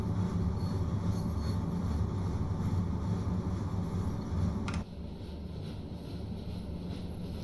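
A train running in Train Sim World 2 on the Arosalinie between Chur and Arosa, heard as a steady, loud low rumble and rolling drone throughout, with a brief sharp transient partway through after which the noise settles slightly quieter.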